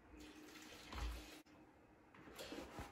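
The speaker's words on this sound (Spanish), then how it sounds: "Y ahora hay que ir echando el agua templado poco a poco." Lukewarm water trickles gradually into bread dough, a soft, faint running pour that swells in brief bursts and briefly stops midway, with no voices.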